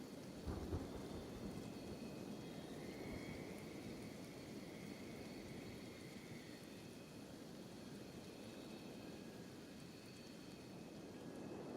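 Thunder rumbles steadily under heavy rain during an acid rain storm in the video game Kenshi, with a louder crack near the start and a continuous hissing downpour throughout.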